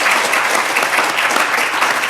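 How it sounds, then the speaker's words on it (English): Audience applause for a public policy panel at a marine policy conference, steady dense clapping from a full room, loud and continuous throughout with no talk over it. "Can we have a round of applause for our public policy panel?"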